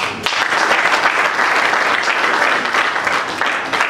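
A crowd at a UNPC election meeting at Centre Nganda in Kintambo applauds a result, dense clapping that starts abruptly and holds steady and loud to the end.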